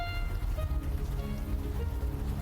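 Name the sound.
rain landing on the ground in video game Unavowed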